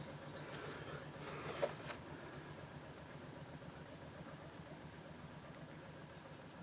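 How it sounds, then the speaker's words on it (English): A faint, distant canal boat engine putters steadily with a low, rhythmic popping that continues unchanged throughout. "It's probably just a canal boat, it just sounds like a tugboat with this little popping engine."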